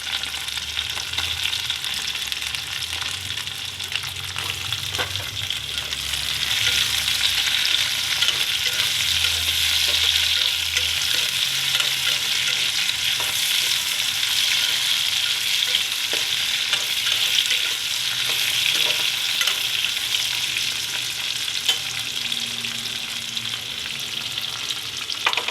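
Okra and mango pieces fry in a pan and get stirred now and then, a steady close sizzle that rises and holds for most of the stretch, with no talking.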